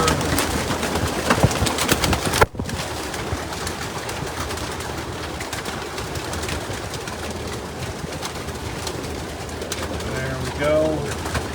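Pigeons coo in a busy loft holding hundreds of birds, a constant murmur of calls and rustling with a sharp knock partway through and a clearer nearby coo toward the end.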